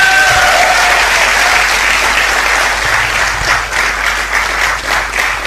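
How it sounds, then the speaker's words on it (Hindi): Audience applause at a Hindi success-stories talk, a dense steady wash of many hands clapping that carries on loudly throughout, with no voice over it. "जोरदार तालियां स्वागत करें।"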